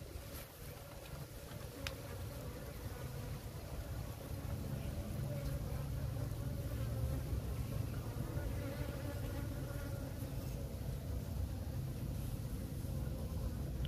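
Honeybees swarm over the frames of an opened hive, a dense steady buzz that holds throughout over a low rumble, close and fairly loud.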